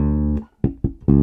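A bass note rings out, then a pair of muted dead-note thumps and a slide back into a sustained D, from a bass line, close and clear.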